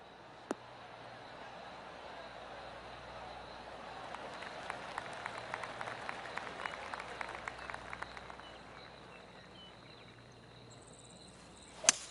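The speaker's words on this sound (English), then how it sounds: "Oh, golf clap." Polite golf clap from a small gallery in PGA 2K23 after a good tee shot, a faint, sparse patter of hands that builds briefly and then fades over a quiet outdoor ambience.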